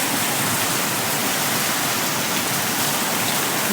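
Steady rain from the first rain of summer pours down as an even, dense hiss with no breaks, loud and close throughout, and no voices.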